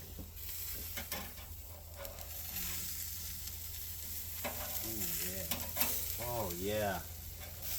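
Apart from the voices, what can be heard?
flipping sizzling burgers in a pan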